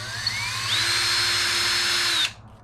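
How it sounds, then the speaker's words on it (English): A power drill whines steadily at high speed for about two seconds, drilling through a Can-Am Spyder RT motorcycle part to mount a top bag, its pitch rising slightly, then cuts off abruptly. "let the drill go through"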